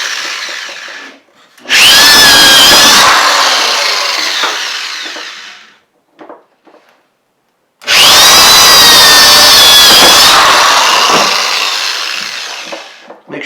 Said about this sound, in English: Make sure I'm not drilling into my barrel.